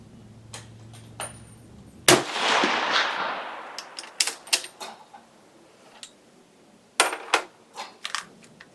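A single loud gunshot from a Swiss K11 rifle firing PPU 174 factory ammunition, with a long rolling outdoor echo, surrounded by light metallic clicks and handling noises before and after.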